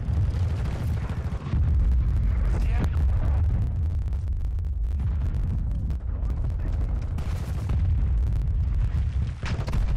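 A hostile cruise missile strikes in Call of Duty: Modern Warfare 2 multiplayer, loud booming explosions and rumbling blasts layered with gunfire, while game radio voices call out over the battle.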